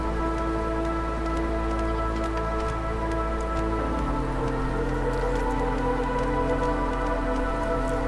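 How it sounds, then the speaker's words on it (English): Steady rain falls in the video game Against the Storm, a dense, even patter with soft droplet ticks over a constant hiss that continues unchanged throughout. "as you can see, the rain is actually fertilizing things"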